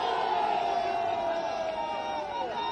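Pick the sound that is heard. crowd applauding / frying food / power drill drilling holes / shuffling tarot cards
crowd applauding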